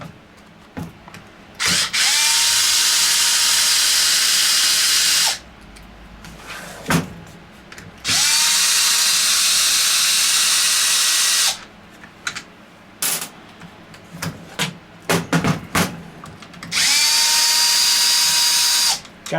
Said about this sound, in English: I'm going to take off these 2 screws here, 1 on each side.